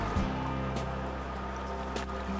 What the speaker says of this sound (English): Then the nozzle here, wash that in some water.